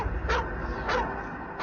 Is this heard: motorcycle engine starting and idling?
no